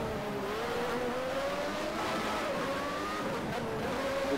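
A 1994 Formula 1 car laps in the Automobilista racing game, its high engine note steady and loud throughout, rising and shifting slightly in pitch as it holds speed, with no talk over it.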